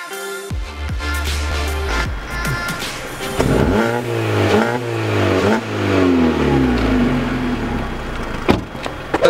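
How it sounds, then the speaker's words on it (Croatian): A petrol car with a newly repaired exhaust runs close by, its engine humming smoothly with several rising revs and pitch sweeps over a steady idle. "Auto trenutno radi ako vi to ne čujete jer je jako tiho"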